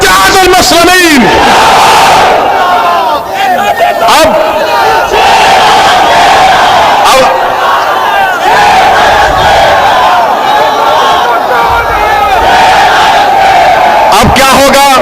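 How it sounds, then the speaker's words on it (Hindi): A large crowd at a Majlis Ittehadul Muslimeen political rally roars the Naara-e-Takbeer slogan in unison, loud and sustained, with massed voices swelling in repeated waves throughout. "अगर सच कहा तो नारा लगा हमारे साथ, नारे तकबीर, नारे तकबीर, मजलिस इत्तेहादुल मुस्लिमीन"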